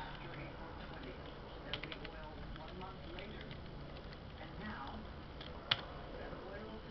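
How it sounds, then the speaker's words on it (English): Fingers tapping on a computer keyboard, a quiet scatter of soft clicks with one sharper keystroke near the end, faint and close over low room noise. "So I'm gonna type in password."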